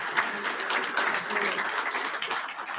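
Audience clapping for a man or woman who has stood up, a dense and even patter of many hands holding steady throughout, moderately distant and fairly soft.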